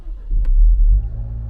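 A 2.0-litre petrol engine in a Land Rover Defender P300 (L663) rumbles close by at low revs, its steady idle lifting briefly in the middle of the short stretch before settling again.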